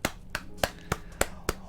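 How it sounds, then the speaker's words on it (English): Six sharp, evenly spaced claps ring out, close and fairly loud, forming a short slow round of applause with no talking. "let's give Nakey Jakey a round of applause there"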